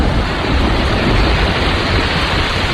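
Steady heavy rain with a thunderstorm rumble, a dense continuous roar filling the background of a radio drama, loud and unbroken with no voices.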